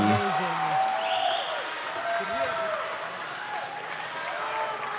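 A crowd cheers and applauds at a paraclimbing national championship final, a broad roar with whoops over it while a commentator's voice rides on top.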